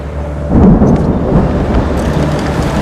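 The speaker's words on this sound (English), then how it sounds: "An approaching downpour threatens to grow into a lightning storm." Thunder from an approaching storm rolls in as a loud, broad rumble over steady rain noise at an outdoor construction site, continuing without any voices.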